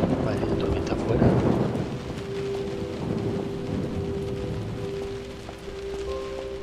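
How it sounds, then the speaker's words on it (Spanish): Steady rain and a rolling thunderstorm outside in the video game Close to the Sun, a constant dense wash with low rumbling and a faint sustained tone running through it. "la tormenta afuera"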